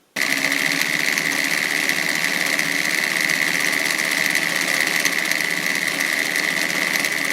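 An antique Singer 319W sewing machine runs steadily while stitching a decorative pattern from a cam. It makes a continuous close whirring hum with an even mechanical buzz and no pauses.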